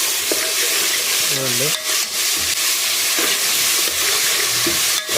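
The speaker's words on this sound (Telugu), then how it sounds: "ఇప్పుడు తెల్లగడ్డ పేస్ట్ అల్లం పేస్ట్ వేస్తాను చూడండి" Garlic and ginger paste sizzling with onions in a hot pan during vegetable biryani prep, a steady loud crackle with stirring scrapes throughout and brief speech over it.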